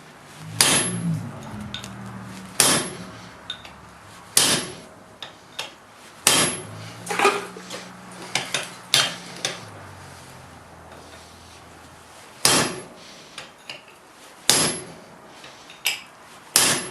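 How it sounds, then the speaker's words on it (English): Sharp metallic blows of a 4-pound hammer striking hot steel while forging tongs ring out in irregular bursts, some in quick pairs, others spaced by pauses, close and loud with a bright clang. "if it's intermittent hitting like this, you get a lot more work done with a 4-pound hammer"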